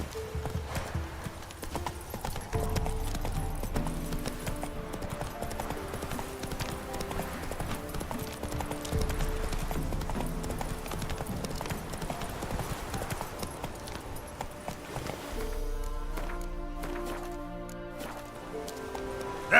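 Hooves of the horse Roach clip-clop at a steady trot in The Witcher 3, set against game music, with a brief whinny and a short stretch of music alone near the end.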